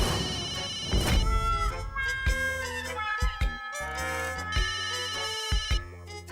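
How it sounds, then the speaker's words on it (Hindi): A phone rings with a melodic electronic ringtone that repeats in short phrases, fairly loud and close in a household, with no talk over it. "फोन बज रहा है तेरा।"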